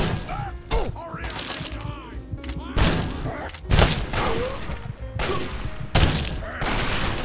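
Enemy gunfire in the Capital Wasteland of Fallout 3 comes in several loud sharp bursts and thuds spaced a second or so apart, with someone talking and exclaiming in between.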